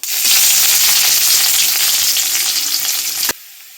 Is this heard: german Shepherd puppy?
no